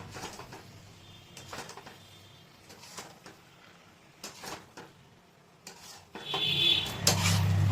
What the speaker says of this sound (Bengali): পনিরটা দেখুন মশলা দিয়ে ভালো করে মিক্স করছি